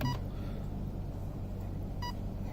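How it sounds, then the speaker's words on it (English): Two short electronic beeps, one at the start and one near the end, over a steady low hum. "2 beeps for endpoint adjustment, and 3 beeps"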